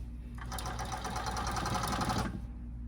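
A blind hemmer sewing machine stitches the bottom hem of a drapery panel, a steady close-range mechanical whir with fast repeating needle ticks running about two seconds before stopping.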